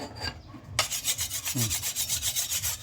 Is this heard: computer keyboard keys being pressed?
no